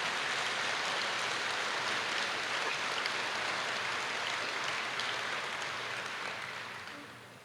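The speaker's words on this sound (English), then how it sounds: "give a round of applause to the 9th Reconnaissance Wing" Sustained crowd applause for the 9th Reconnaissance Wing at a military change of command ceremony, a dense, steady clapping wash that holds for several seconds and then tapers off at the end.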